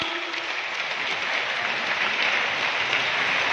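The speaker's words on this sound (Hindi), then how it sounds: "और जोरदार अपनी तालियां।" Loud, sustained applause from a student camp audience filling a hall, dense and continuous throughout with no pauses.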